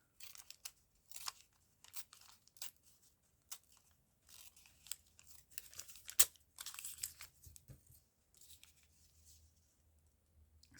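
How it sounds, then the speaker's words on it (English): Paper crunching and crinkling in scattered bursts, close up, with brief tearing-like rasps between short pauses, while making vintage-style paper tags. "I do like that crunchy sound of paper"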